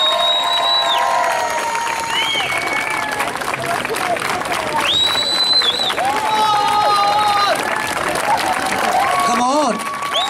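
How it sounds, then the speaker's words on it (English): Street-dance crowd outdoors making noise, clapping and cheering with whoops and high whistles over a loud, continuous babble of voices. "Make some noise, come on."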